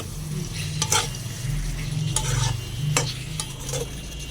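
Amra pickle with panch phoron stirred in a pan, a spoon scraping and clinking against the metal in irregular strokes over a soft, steady sizzle, close and fairly quiet.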